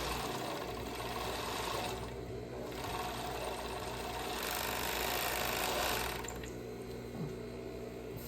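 Sewing machine stitching a bikini seam, a steady close mechanical whirr running continuously with slight swells in loudness and no talk.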